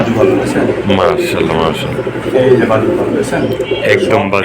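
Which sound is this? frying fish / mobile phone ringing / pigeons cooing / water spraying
pigeons cooing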